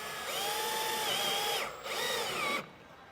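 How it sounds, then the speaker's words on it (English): A power drill spins up repeatedly as it drives self-tapping screws with a square bit into an RV slide topper, two long whining bursts with falling pitch changes, loud and close with no talk. "So try and use a drill if you have one."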